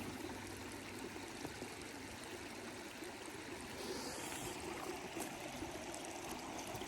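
River water streams and trickles steadily along a bend near a gulch, a constant close rushing wash with no voices.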